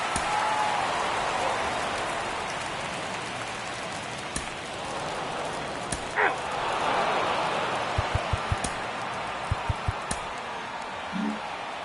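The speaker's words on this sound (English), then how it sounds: "The rain is here, and it doesn't look like it's going away anytime soon." Steady rain pouring over a ballpark in MLB The Show 23, a constant dense hiss with scattered sharp drop ticks and a few faint taps.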